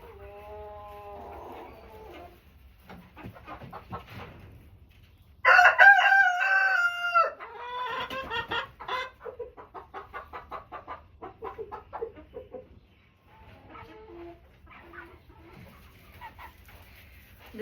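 Backyard hens cluck softly before a rooster lets out a loud, close crow, followed by a rapid series of clucks and quieter clucking toward the end.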